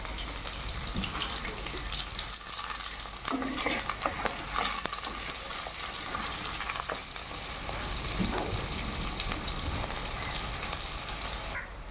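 Onions fry in a pan with rock salt and curry leaves, a continuous loud sizzle and crackle with occasional stirring scrapes, close up and without talk.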